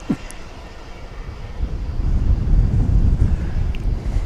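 An airplane lands at DFW Airport. A distant jet roar swells and grows steadily louder over gusty wind buffeting the microphone.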